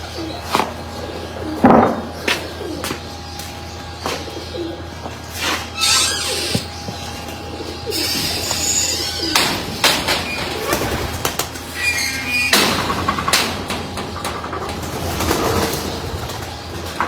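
Pigeons kept by a breeder coo softly and repeatedly nearby, with occasional wing flaps and rustling among the birds.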